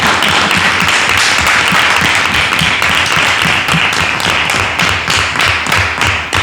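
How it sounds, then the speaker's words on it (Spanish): Audience at a school radio and communication workshop for Andalusia Day claps loudly and close by, a dense, slightly uneven burst of hand claps lasting throughout with no voices on top. "le damos un fuerte aplauso a Angustia por lo que..."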